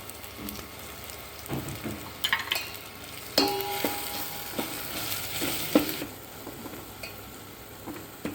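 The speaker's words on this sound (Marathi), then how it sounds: "मसाला छान परतून झाला" Garam masala, red chilli and turmeric sautéing in a pan, a quiet continuous sizzle with repeated scraping and clinking stirs close by, no voices.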